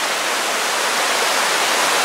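A river rushes past near Trümmelbach Falls in Switzerland, a loud, steady broadband roar of flowing water heard close and alone, with no voices.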